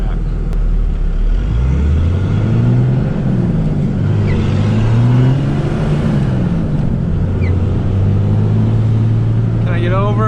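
A 2001 Dodge Ram 2500 Cummins diesel pickup with a six-speed manual pulls away from first gear, its loud engine rising and falling in pitch through several rev sweeps as it gains speed, heard close up from inside the cab.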